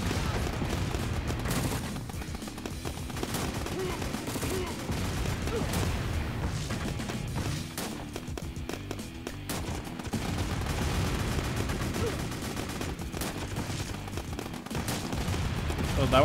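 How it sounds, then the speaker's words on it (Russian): Sustained battlefield din from the video game Crisis, with artillery and gunfire rumbling and crackling continuously at steady loudness, dense overlapping bursts with no pauses. "Артиллерия работает."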